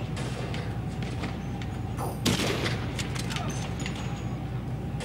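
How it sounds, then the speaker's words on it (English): Gunfire in Grand Theft Auto: a constant dense game din with a sharper burst of shots and booms about midway, with no clear talk over it. "Oh, shit, he's shooting at you."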